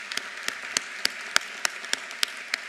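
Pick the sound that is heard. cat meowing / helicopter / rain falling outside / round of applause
round of applause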